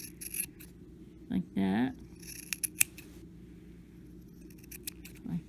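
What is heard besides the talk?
scissors trimming a yarn pom-pom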